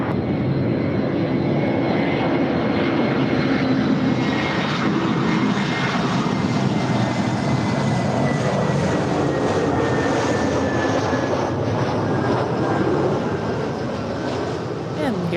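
An airliner on approach to land on runway 24 right at Buffalo, a loud, steady engine roar with slowly falling whine tones, heard continuously with radio-style talk over it.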